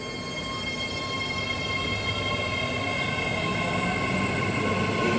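New five-car BART Fleet of the Future train, not in service, departing with a loud continuous rumble, high-pitched electric motor whine and wheel squeal, heard close and alone.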